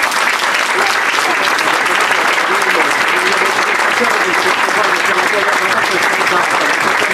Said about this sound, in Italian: Ancora un applauso per Marcello.